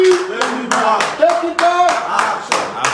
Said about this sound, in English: I have to close my ears so that you don't rupture my eardrums with the clap